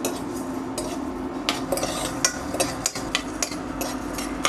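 Two spoons of coriander seeds roast in a lightly heated frying pan, giving near, steady scraping and clinking as a spoon stirs them against the metal, with a low constant background hum.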